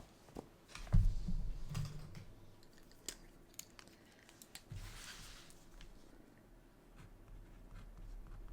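A pen writes a quote by hand on paper for a scrapbook, making faint scratchy strokes with soft taps and paper rustles in a quiet room.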